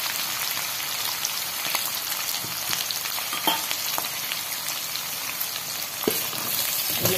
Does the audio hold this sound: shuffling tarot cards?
no